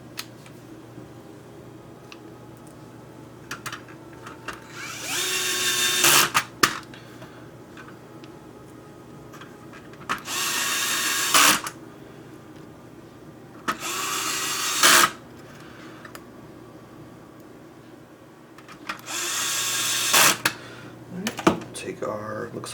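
An electric screwdriver drives four screws back into a game console case during a GCLoader install, giving separate whirring bursts a few seconds apart, each ending in a sharp tightening click, with quiet handling between them.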